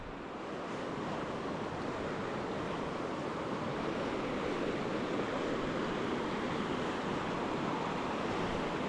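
High river water rushing past a rocky riverbank at a campsite, a loud, steady broadband roar that continues without a break and without talk.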